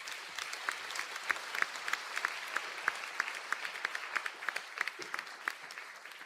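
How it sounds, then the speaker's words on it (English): An audience at a graduation conferring ceremony applauds the graduates, a steady, fairly distant roll of many hands clapping that continues throughout. "Can we have a round of applause, please,"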